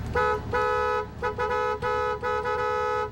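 A van horn honks repeatedly: one long blast, then a series of shorter honks in uneven rhythm, loud and nearby.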